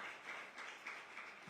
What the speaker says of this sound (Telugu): చప్పట్లు కొడతామా దేవునికి